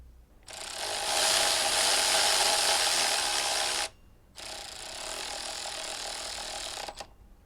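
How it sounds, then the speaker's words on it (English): A torque wrench clicks and ratchets in two sustained bursts with a brief pause between, close up, while tightening the front wheel axle on a ZXMOTO 500RR motorcycle. "So what you need to do is to torque the axle to spec"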